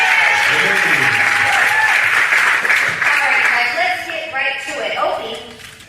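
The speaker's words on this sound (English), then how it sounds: "You guys give him a round of applause." Applause from a crowd at a podcast conference panel, steady and fairly loud, thinning out toward the end.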